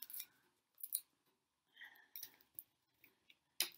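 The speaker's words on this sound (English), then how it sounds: "Try and be good and use scissors." Scissors snipping through paper during a children's lion craft, several short crisp cuts in irregular bursts, close and clear with no talking.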